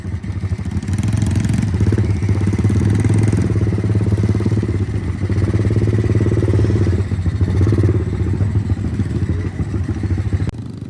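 A rented motorcycle's engine drones steadily while riding on a road trip around Pangandaran, a loud continuous mid-pitched hum that swells and eases slightly with throttle, close and alone without talk.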